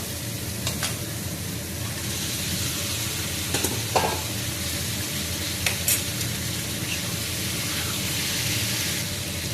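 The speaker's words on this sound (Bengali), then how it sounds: "আমার মশলাটা ভাজা হয়ে গেছে এখন আমি ফুলকপিগুলো দেবো" Spices and cauliflower fry in a pan with a continuous, even sizzle and occasional small pops and stirring clicks, with no voices over it.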